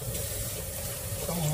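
Water pours steadily into a pot of broth from a tap, a continuous close splashing gush that runs without a break.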